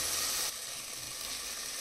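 Tomatoes with grated ginger fry in the base of a pressure cooker for a carrot and potato curry, giving a faint, steady sizzle with a slight change in texture partway through.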